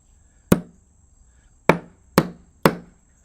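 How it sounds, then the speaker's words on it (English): Four sharp hammer taps on a screw head driving it into wooden porch ceiling framing, one then a pause followed by three quick evenly spaced strikes, close and crisp with no talking. "take a hammer and just kind of tap them into place."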